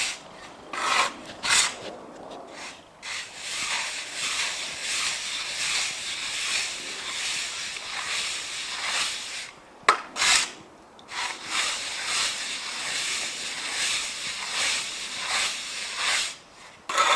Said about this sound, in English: You fill any bits in, fill them in with a float.